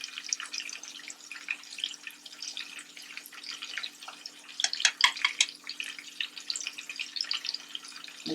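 Brown stew fish bubbling in a cooking pot, a steady crackle of small pops and wet sputters, irregular and fairly faint, going on continuously without any talking.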